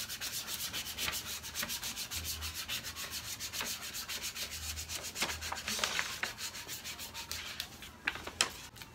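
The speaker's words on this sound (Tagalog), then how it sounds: "gagamitan natin siya ng squeegee para hindi siya magka-bubbles" A squeegee scraped repeatedly across a vinyl sticker on a DIY fridge magnet to push out air bubbles, a steady close rubbing and swishing that keeps going with quick strokes and sharper scrapes near the end.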